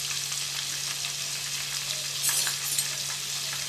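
Chopped green chillies crackle and sizzle in hot oil for a fish curry, a steady close hiss with a few sharper pops and spits, no voices.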